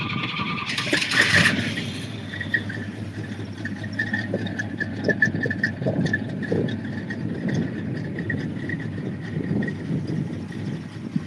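A classic muscle car, fitted with a parchment interior, bucket seats and a console, cranks and fires into a rough idle. There is a short loud burst at the start, then a steady rumbling idle that continues alone.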